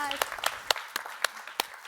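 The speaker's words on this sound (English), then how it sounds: "Please give Katie a round of applause" A festival info-session audience applauding a presenter named Katie: a handful of separate, fairly quiet claps at a loose, even rhythm, with a voice briefly heard at the start.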